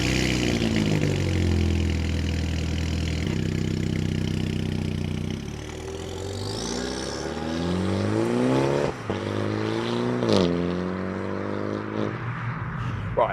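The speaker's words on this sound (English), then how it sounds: "let's start it up and let's go for a drive" A MINI John Cooper Works engine running steadily close by, its revs stepping up and down through several blips with a mid-pitched, buzzy exhaust note and no talk over it.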